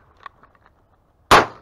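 A shotgun fires a single loud, sharp blast at ducks during a late-season hunt on public delta river land, preceded by faint small clicks and knocks, with no talking.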